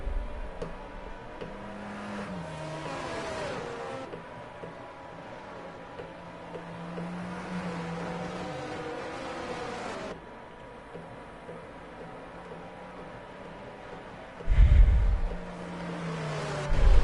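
F1 race cars in the F1 22 video game during a race at the Saudi Arabia round, their engines whining at sustained, shifting pitches, with a louder surge near the end.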